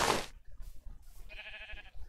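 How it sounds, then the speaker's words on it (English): A Minecraft sheep bleats once, a short, nasal, wavering tone partway through, set among other loud game sounds, a burst of noise at the start and soft background thumps. "There's the sheep."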